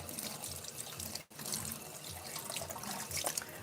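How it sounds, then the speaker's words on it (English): Hands being washed under a running kitchen tap during home cookie baking, a steady broadband rush of water with a brief break partway through. "Let me wash the hands"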